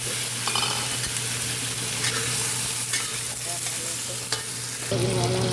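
Tomatoes frying in a pan at home, a loud continuous sizzle with occasional scraping stirs of a utensil, a constant low hum underneath, and a sharper burst of sizzling near the end.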